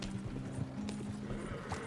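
Horse hooves clip-clopping at a steady gallop in Red Dead Redemption 2, several horses with an occasional whinny, close and continuous over a low game soundtrack hum.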